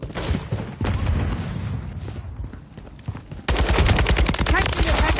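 Call of Duty: Modern Warfare 3 gameplay gunfire: rapid bursts of shots crackle through the first seconds, then a dense, louder stretch of automatic fire at the end, with faint voice chatter mixed in.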